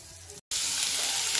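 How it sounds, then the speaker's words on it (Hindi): Onions frying in peanut oil give a steady, bright sizzle that fills the pan close up, broken by a short silent gap before the crackle resumes evenly. "अब इसको हम फ्राई होने देंगे, लाल होने देंगे।"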